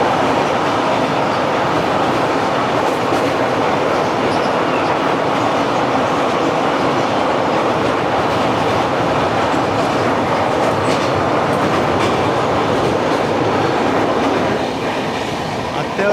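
A long-distance express train rolls across a long bridge, a loud steady roar of wheels and carriages with rhythmic clatter heard from on board, continuous throughout.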